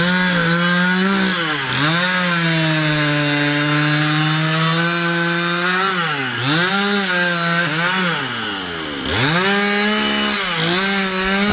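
Chainsaw cutting down a tree in the rain, a loud, sustained buzzing whine that dips and rises in pitch as the chain bogs into the wood and revs back up, running continuously and close.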